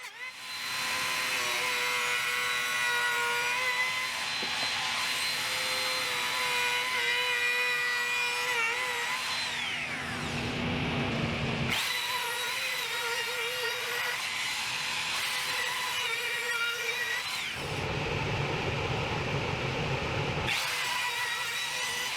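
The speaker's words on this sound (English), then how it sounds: "so I'll do that now with the router." A power router whines loudly as it cuts rabbets into wooden rails, its high-pitched spinning roar rising and dipping through several passes with brief pauses between cuts.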